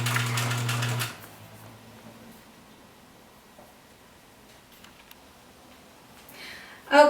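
A sewing machine stitches a quarter-inch seam on a fabric face mask in one short, close, rapid burst that stops after about a second, leaving quiet room tone.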